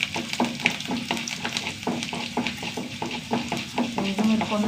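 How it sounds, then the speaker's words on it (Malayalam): Urad dal fries in hot oil, giving a dense crackling sizzle with quick rhythmic bursts of stirring, close and fairly loud. "ഉഴുന്ന് പരിപ്പൊന്ന് മൂക്കട്ടെ"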